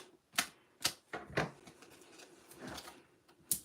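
Paper edges being cut for a card-making craft project, with a handful of crisp snips and clicks in an irregular rhythm, close and fairly quiet.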